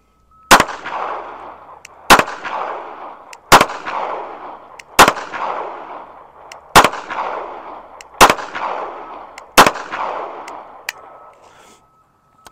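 Seven sharp, loud shots from a Bodyguard .380 compact pistol fired at regular intervals about one and a half seconds apart, each crack followed by a short ringing outdoor echo and decay.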